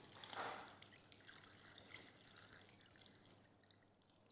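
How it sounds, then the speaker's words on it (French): Water poured into a bowl to cover and soak seaweed, a soft trickling splash that swells early and then settles into faint dripping, close and quiet with no talking. "là dans un bol, je viens juste le couvrir d'eau"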